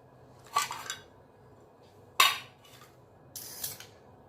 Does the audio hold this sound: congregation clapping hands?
no